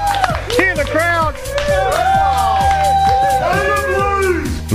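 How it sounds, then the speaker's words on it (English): A crowd at a lawn bowls match roars and cheers loudly after a winning bowl, with clapping and excited shouts all around, while a commentator talks over the noise. "Hear the crowd."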